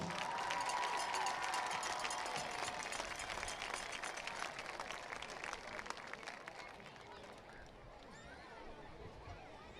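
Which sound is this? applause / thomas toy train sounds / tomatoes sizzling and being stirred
applause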